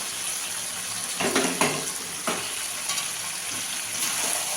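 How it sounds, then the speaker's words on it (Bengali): Country chicken and potato pieces fry in a pot, giving a steady wet sizzle under a few scraping, clattering strokes of stirring, close and moderately loud with no voices. "এবার ভালো করে কষাবো, কষিয়ে কষিয়ে রান্না করবো"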